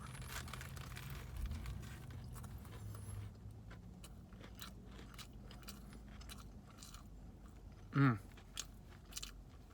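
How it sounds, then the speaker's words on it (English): Someone bites into and chews a crunchy Popeyes fried chicken sandwich. Soft, faint chewing runs through a quiet stretch, then one loud, close crunch lands near the end. "the crunch of this chicken, man, it's definitely Popeye style"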